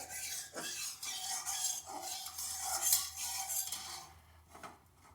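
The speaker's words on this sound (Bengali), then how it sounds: "চিংড়ি মাছটা একটু ভেজে নেব ভালো করেই ভেজে নেব একটু ছড়িয়ে দিচ্ছি কড়াইতে" Prawns frying in hot oil in a wok, a steady hiss and crackle with scraping metal stirring against the pan throughout, fading toward the end.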